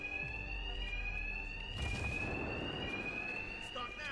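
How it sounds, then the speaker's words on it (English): A steady electronic alarm rings in Batman: Arkham Knight, a continuous high tone heard alongside a brief burst of noise partway through. "My attacks will be covered by the noise of the alarm."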